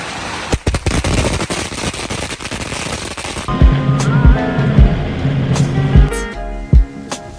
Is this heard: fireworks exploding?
yes